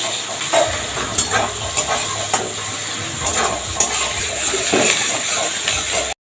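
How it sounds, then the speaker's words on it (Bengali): Chopped onions with black cumin frying in hot oil for a pomfret dish, a close, continuous crackling sizzle broken by several sharp stirring scrapes and clinks, ending abruptly. "সেই তিনটে পেঁয়াজ আমি তেলের মধ্যে দিয়ে দেবো পেঁয়াজটাকে বেশ ব্রাউন করে ভিজে নেবো আমি"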